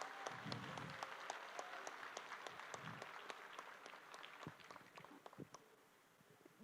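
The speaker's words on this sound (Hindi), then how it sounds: "तो एक जोरदार तालियां आपके लिए।" Applause at a direct selling business meet, quiet and distant, with sharp individual claps popping irregularly above a soft crowd murmur and low rumbling thumps.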